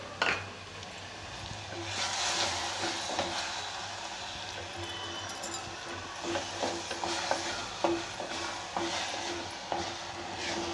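Ground tomato puree from two tomatoes poured into onions and garlic frying in a pan for anchovy fish curry, giving a quiet, steady sizzle with occasional stirring clinks and scrapes, no talking.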